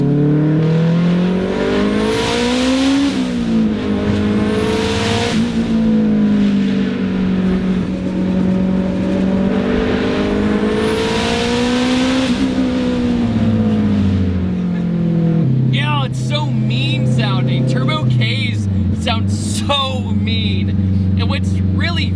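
A turbocharged 500-horsepower all-wheel-drive Acura Integra pulls hard, its engine note climbing and dropping through repeated surges, steady and loud from inside the car, with a rattly shift in tone near the end.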